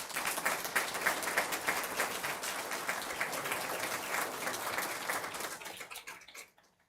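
Audience applause at a school district governing board meeting honoring volunteer recognition, steady dense clapping from a room of people for about six seconds before fading out.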